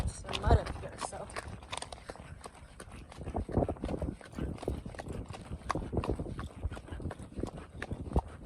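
Horse hooves walk along a muddy trail at an even, unhurried gait, close and clear, heard from the rider's position, with a voice talking now and then over the footfalls.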